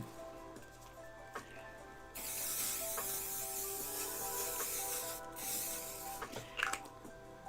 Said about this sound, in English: Bit of hairspray.